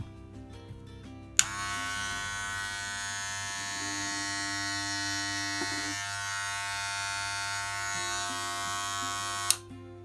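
A Wahl Magic Clip electric hair clipper switches on with a sharp click and runs with a steady, close buzzing hum for several seconds before clicking off.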